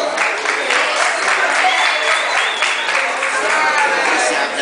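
Dense, loud applause and crowd noise from an audience welcoming the samba group Black Samba onto the stage at an awards show, steady and continuous throughout.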